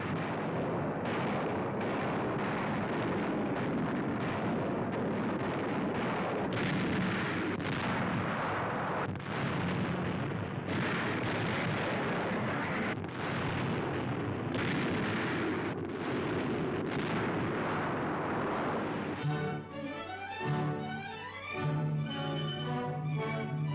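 Explosions from an RAF bombing raid on war plants in occupied France in 1943: a dense run of repeated booming blasts and rumble, followed by an orchestral newsreel score near the end.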